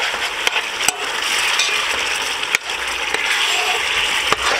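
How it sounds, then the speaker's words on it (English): Tomato, onion, okra and hot pepper stirred in a pot, a bright close hiss of cooking with a few sharp clicks of the spoon against the pot, no one speaking. "I'm going to add in the tomato, the onion, the okra, and the hot pepper. Give it a stir."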